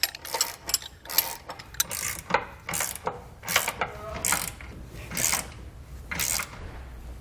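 Hand tools snug down the hardware of a Roadmaster Direct-Connect base plate kit on a 2015 GMC Sierra. The ratchet clicks out in quick, close bursts, with brief pauses between strokes.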